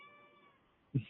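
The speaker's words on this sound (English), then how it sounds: "that was my cat" A house cat lets out one short, close meow right at the end, after a quiet stretch with a faint tonal hum.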